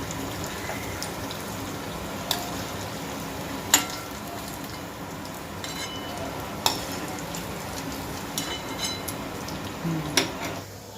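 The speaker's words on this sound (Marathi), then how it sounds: "ह्याला मंद गॅसवरच तळायचे आहेत" Cabbage manchurian balls deep-fry in oil on a low flame, a steady close sizzle and bubbling with occasional sharp pops and clicks.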